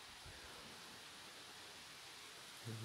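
Light rain falls during thunderstorms near Grenoble in the Alps as a steady, soft, hissing wash. It stays faint and continuous for the whole stretch, with a brief low thump near the end.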